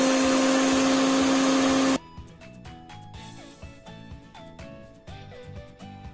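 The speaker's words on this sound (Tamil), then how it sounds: "இதை வந்து அரைச்சிட்டு வந்துடலாம். நல்லா மைய அரைச்சிக்கணும்." A mixer grinder whirs loudly and steadily for about two seconds while blending spinach with lemon juice into a smoothie. It then cuts off, leaving quieter kitchen sounds.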